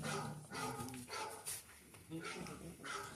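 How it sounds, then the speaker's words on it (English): A dog barks in a few short bursts with people talking over it. "Who is barking?"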